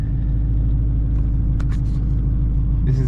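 A truck engine idles in a low, steady rumble that holds at the same level throughout the short clip, with a few faint background clicks near the end.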